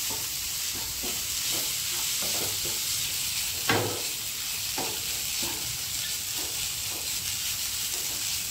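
Onion and ground masala paste stir-fried in a pan, giving a steady close sizzle with soft intermittent stirring scrapes and one sharper clatter partway through.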